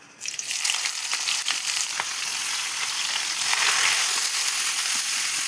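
Refined cooking oil heats in a pan with a steady, close crackling sizzle that starts abruptly and holds for several seconds with scattered sharper pops and no talking.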